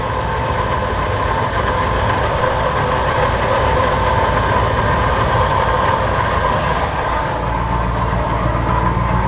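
A rebuilt van's engine idles nearby, a loud, steady drone that holds even throughout and drops slightly in tone near the end, with no talking.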